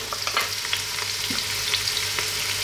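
Carrots hit a hot pot for sweet potato soup and set off a steady, close sizzle and fry with light stirring clatter throughout.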